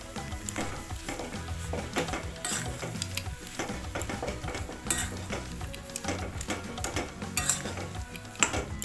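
A spatula repeatedly scrapes and knocks against a pan while cauliflower filling is stirred with spices and sugar, under a continuous light sizzle, busy and close throughout without speech.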